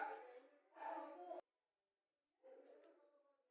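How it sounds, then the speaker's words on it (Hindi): A dog barks in the distance, two drawn-out yowling barks, a silent gap, then another fainter bark, all quiet and with no voices. "कौन भौंक रहा है ये बदतमीज"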